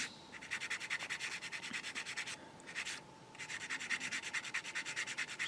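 Hand sanding on plastic parts of a 1/35 scale Takom Chieftain Mk10 tank kit, close and continuous rapid rubbing strokes with one brief pause midway, no voices.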